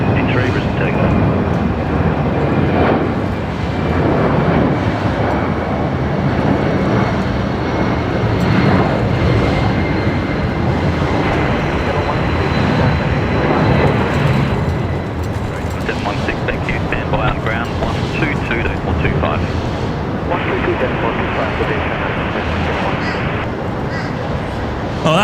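A USAF C-17 military transport jet departs Brisbane Airport, its engines a loud continuous roar that holds through the whole stretch with slight surges, mixed with faint radio chatter.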